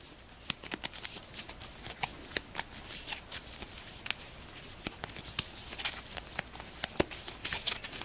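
Explorer cards from the board game The Guild of Merchant Explorers being shuffled by hand, a steady run of crisp riffling clicks and papery patter, fairly quiet and close, with no voices.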